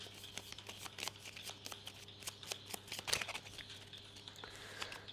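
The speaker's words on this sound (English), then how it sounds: "shuffle the cards" Cards are shuffled during a solo tabletop card game session, a rapid series of crisp papery flicks and riffles close by, with a denser burst midway and no talking.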